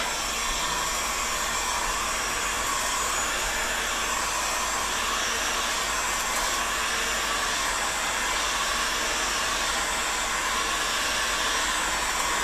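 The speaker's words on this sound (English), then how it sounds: "Let's start by heating this end of the 1 inch pipe." A heat gun blows steadily while heating the end of a 1 inch pipe for building a reinforced Sipahi bow, a loud, even, continuous airy whoosh with no talk.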